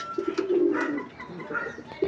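Breeding pigeons coo softly while eating at their feeding spot, a few short throaty coos in quick succession, close and fairly quiet over faint pecking and rustling.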